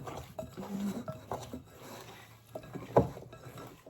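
Chicken wing seasoning mixed in a bowl, with soft scraping and stirring rubs from a utensil alongside a few light clinks, close and fairly quiet.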